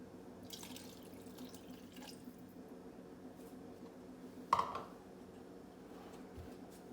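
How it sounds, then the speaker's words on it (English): Tap water poured in while cooking a creamy white chili, a short splashing trickle midway through a quiet kitchen backdrop with faint drips around it. "I might add a little bit more water."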